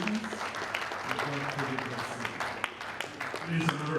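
An audience at a creative-industry meeting applauds, a moderate, steady patter of clapping mixed with voices and chatter in the room.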